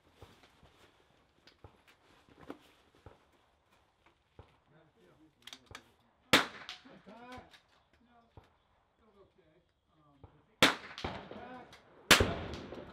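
Rimfire rifle shots and bullets striking steel targets at an NRL22 shooting match: scattered faint cracks and clangs, with three sharper, louder hits near the end, amid quiet speech between shots.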